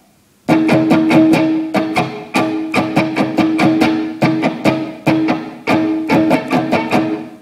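An unaccompanied guitar strums a song's rhythm pattern, a steady run of sharp down-and-up strokes in a repeating chugging groove, played close and loud with brief gaps between phrases.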